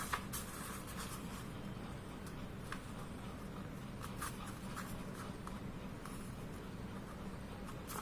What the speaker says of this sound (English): we'll take the edge of the paper and fold it to the other edge of the paper, just like this